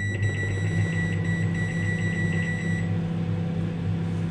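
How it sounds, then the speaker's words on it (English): A microwave oven hums steadily while heating two potatoes, with a constant close drone and a faint high tone that stops partway through. "2 spuds, these are going in a microwave for about, what do we think, 10 minutes."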